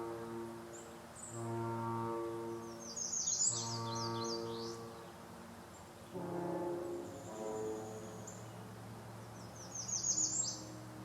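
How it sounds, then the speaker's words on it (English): Faint bird chirps and short trills in the distance, recurring a few times over a low, steady foghorn-like hum of boats heading out that comes and goes. "I'll be quiet so we can hear the birds"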